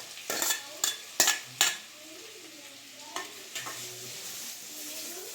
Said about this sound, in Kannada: ಎಣ್ಣೆಯಲ್ಲಿ ಈರುಳ್ಳಿನೂ ಹಾಕ್ಕೊಂಬಿಡೋಣ.